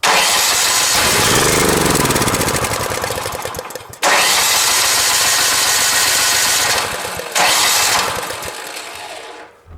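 A new snow blower engine with a fuel-related starting problem cranks and catches, roaring loudly, cuts out, then restarts twice more with sharp bursts of running noise, close by and with no talk.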